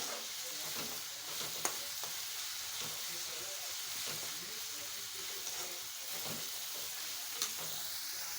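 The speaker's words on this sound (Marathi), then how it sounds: "कांदा मी आता व्यवस्थित तेलामध्ये परतून घेते" Onion sizzling steadily in hot oil during preparation of stuffed brinjal, with occasional soft stirring clinks over a continuous frying hiss.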